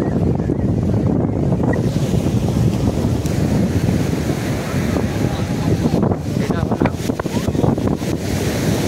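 Strong wind buffets the microphone over steady surf at Juhu Beach in Mumbai, a loud, continuous roar with crowd noise behind and a brief spoken phrase.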